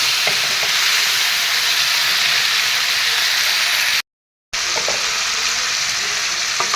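Fish and cauliflower fry in hot oil in a pan while being turned and stirred for a fish curry, a loud continuous close sizzle broken only by a brief dropout.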